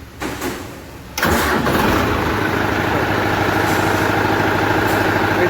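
A tractor in neutral cranks briefly with a short whirring starter, then its diesel engine catches abruptly and settles into a loud, steady, close-up idle that carries on to the end.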